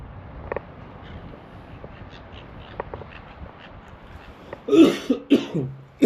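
A couple of harsh, hoarse coughs burst out near the end after quiet outdoor background on Rottnest Island, Australia, loud and close.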